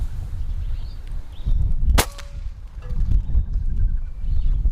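A single sharp crack from an Effecto Zeon pellet air rifle stands out midway through, set against low rumbling outdoor background noise while hunting with pellets.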